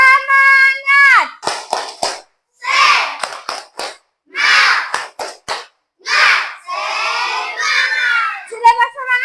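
Children in a classroom perform the tepuk semangat clapping chant, with rhythmic hand claps mixed into loud shouted and sung group chanting in bursts separated by short pauses.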